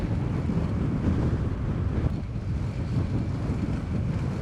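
Strong wind buffets the microphone while cycling around Florida's largest lake, a loud, continuous low rumble that stays steady throughout with no voices.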